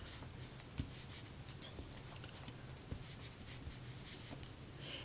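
Steady soft scuffing and rubbing as a tool buffs the outer edge of a handmade strawberry and watermelon card in circular motions, close and quiet with a few light taps, no talking.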